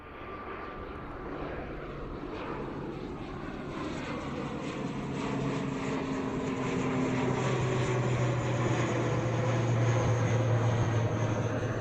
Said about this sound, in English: Aer Lingus ATR 72600. Look at that, what a beautiful rotation.